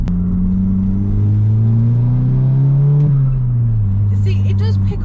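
A Stage 1 remapped Audi TT engine rumbles and rises in pitch as it accelerates in third gear, then eases off; a voice speaks briefly near the end.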